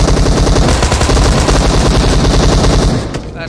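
Video-game gunfire rips out as a loud, unbroken stream of rapid automatic shots, dense and close, then cuts off abruptly near the end.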